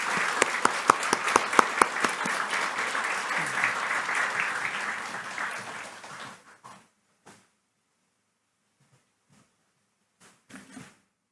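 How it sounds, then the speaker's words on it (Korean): A church congregation at a Sunday worship service claps warmly to welcome a pastor, with dense applause and sharp nearby claps for about six seconds, then fading to a few scattered claps and near silence. "강재영 목사님 일어나실 때 뜨겁게 박수로 환영하겠습니다"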